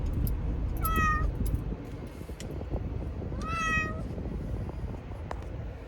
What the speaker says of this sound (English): part of the reason why she meows so loudly is because she's deaf